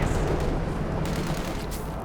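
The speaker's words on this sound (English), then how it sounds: "Trying to call in a bit of counter-artillery." Artillery and gunfire from a Company of Heroes 2 battle, a dense continuous rumble of blasts and crackling shots with no speech.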